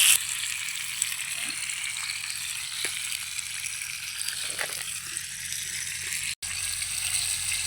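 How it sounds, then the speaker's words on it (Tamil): Pomfret coated in crushed masala fries in wood-pressed oil on a dosa tawa, making a steady, bright sizzle that continues throughout with a brief dip near the end, heard with no one speaking. "எண்ணெய் காஞ்சிச்சு, மீனை வைக்கலாம்."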